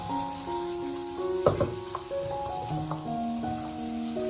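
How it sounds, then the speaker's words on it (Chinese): Sliced winter melon being stir-fried in a hot wok with oyster sauce and soy sauce. A steady sizzle runs throughout, with scraping spatula strokes and a few louder clatters partway through. "快速的将它翻炒均匀，把所有的冬瓜炒至入味就差不多了"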